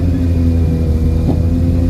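BMW K1200 and Suzuki Hayabusa racing at a motorcycle drag event in the desert, a steady loud engine drone that swells briefly as the bikes pull away.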